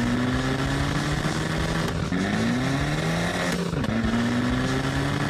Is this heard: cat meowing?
no